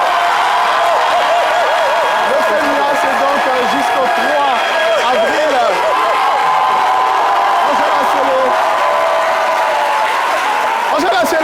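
Festival audience at FEMUA applauding a performing group: dense, loud, continuous clapping mixed with crowd cheers and whoops, with talk underneath.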